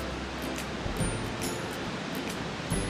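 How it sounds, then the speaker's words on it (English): The McArthur-Burney waterfall in a California state park gives a steady broadband rushing roar, a constant wash of falling water heard from some distance along a loop trail with no voices. "I can already hear the waterfalls."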